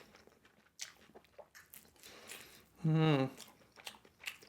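Coconut shrimp being bitten and chewed up close, soft wet crunching and mouth noises with an appreciative hum from the eater mixed in.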